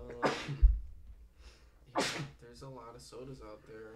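Two loud, sharp sneezes about two seconds apart in an indoor podcast setting, each a sudden burst followed by casual conversation between people.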